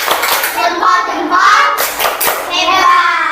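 Schoolchildren in a classroom lesson clapping out the rhythmic tepuk jempol cheer, bursts of hand claps mixed with their chanting voices, close and lively.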